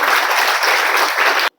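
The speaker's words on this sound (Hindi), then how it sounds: "जोरदार तालियों से इनका स्वागत" Loud, steady applause from a gathered audience welcoming a newly appointed home guard student at a district ceremony in Surajpur, continuous clapping that stops abruptly.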